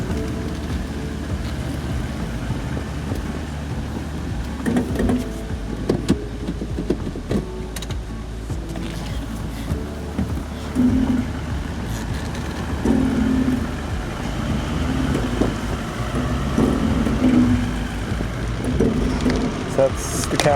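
Toyota Land Cruiser crawling in 4WD low range with turn assist engaged, a steady low engine and drivetrain rumble running throughout with occasional clunks and knocks, and someone talking over it.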